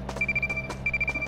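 A telephone rings in the video game The Tomorrow Children, a repeating electronic trill in quick pulsing bursts over a low game hum.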